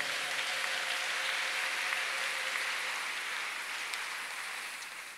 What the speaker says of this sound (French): Est-ce qu'on peut acclamer le Seigneur encore?